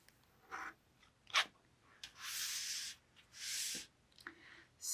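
Fabric pieces trimmed to small 1¼-inch squares with a cutter sliding along a channel guide, a few brief soft swishing cuts and scrapes, quiet and close, with no talk.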